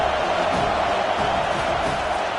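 A packed football stadium crowd roars and cheers in a dense, sustained wall of noise, loud and unbroken with no distinct voices rising above it.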